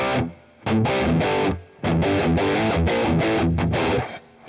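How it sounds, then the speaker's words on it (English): Distorted electric guitar chords played through a Boss Katana MK-II amp with reverb switched on, loud strummed bursts separated by short gaps in which a brief reverb tail lingers. "Let's turn it all the way off so you can hear the reverb."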